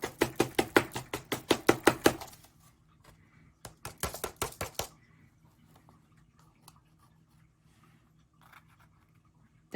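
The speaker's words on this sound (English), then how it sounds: "I'm gonna hit the back so more salt can come off. And then I'm gonna tap it on here." A salt-covered craft mould for a snowflake is tapped against a hard surface in two quick runs of sharp knocks, about a dozen then half a dozen, close and crisp, followed by quiet handling and scraping.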